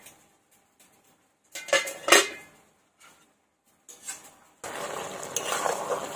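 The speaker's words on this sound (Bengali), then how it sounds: "এবার আমি ঢাকাটা খুলে নিচ্ছি" A metal lid comes off a cooking pot of ash gourd in a village kitchen: a few sharp clanks and scrapes between quiet gaps, followed by a steady hiss of cooking.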